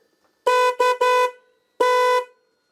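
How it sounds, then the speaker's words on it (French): Horns on a Honda VFR motorcycle blare loud and close in three quick honks, a short pause, then one longer final blast, with nothing else audible. "j'ai réglé mes klaxons. Donc, je vais vous faire écouter ce que ça donne."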